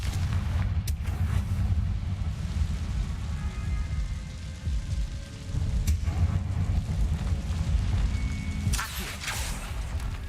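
A fire spell explosion cast in the Hogwarts Legacy video game, heard as a dense, loud rumbling blast with heavy low-end roar that sustains for several seconds, with sharp crackling bursts near the start and end.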